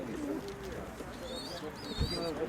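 Flying pigeons coo softly in low, throaty murmurs at a pigeon loft in Zhytomyr region, Ukraine, while small birds chirp faintly in the background; a quiet voice is also present.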